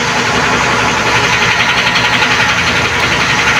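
A loud, close tractor engine rumbles steadily at idle, a dense unbroken drone with no voices over it.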